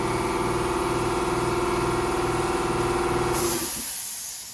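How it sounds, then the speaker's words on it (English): An air compressor in a workshop runs with a loud steady drone and rhythmic pump thumping, then shuts off with a short hiss of released air as the motor winds down to quiet. "So I'll let this air compressor shut off."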